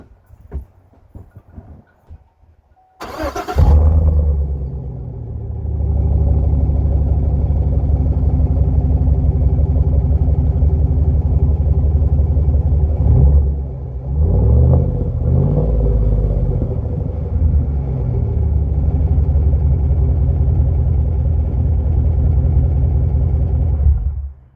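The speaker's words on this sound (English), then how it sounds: "I will do a follow-up video on how it sounds, but let's do the first start." A warmed-up 2014 Chevrolet Silverado fitted with a Vibrant 1794 resonator, muffler and turndown starts with a sharp crank, then settles into a loud, steady idle with a deep rumble and one brief rise in revs midway.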